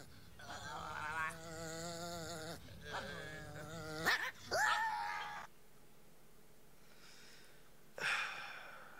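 Angry dog growls and barks come in rough bursts, loud and close with no talking, then trail off into quieter background noise.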